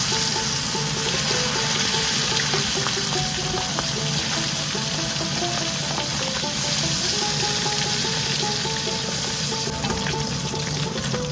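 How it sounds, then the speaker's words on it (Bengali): Small puti fish sizzle steadily as they are dropped one by one into hot oil in a kadai for a Bengali fish curry, a dense continuous frying crackle with faint scraping, no voices. "এবার গরম তেলে এক একটা করে মাছ ছাড়ছি।"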